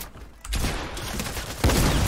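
Gunfire in the Fortnite video game: a sudden burst of shots, then a second louder volley, with rapid overlapping cracks that stay close and dense throughout.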